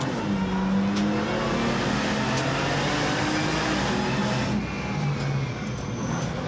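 Twin-turbo V6 car accelerating hard, heard from inside as a steady, loud engine drone with rising tone that holds for several seconds.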